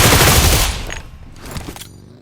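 Burst of gunfire, a loud dense volley at the start that decays into a fading echoing tail, with a smaller second report partway through and no voices.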